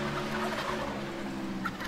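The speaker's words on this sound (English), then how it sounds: "And you're already hearing those turkeys gobbling, gobbling, and gobbling away." Several turkeys gobble in rapid, warbling bursts, moderately loud and continuous over a background murmur, with no clear talking.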